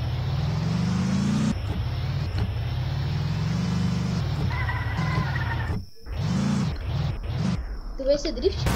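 A car engine in the Roblox game Mad City, droning and revving steadily through a drift. The pitch shifts as it slides, with people chatting over it throughout.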